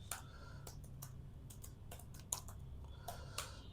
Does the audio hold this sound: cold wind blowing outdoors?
no